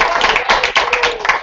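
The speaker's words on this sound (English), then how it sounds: "Why don't we thank her with a round of applause?" A live audience at a Washington Post talk gives a quick round of applause, with dense, overlapping hand claps that are fairly loud and steady for a second and a half.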